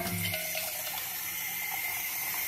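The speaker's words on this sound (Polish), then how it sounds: "A wody trzeba nalać." Water runs steadily from a tap, a close, continuous splashing stream that fills a container.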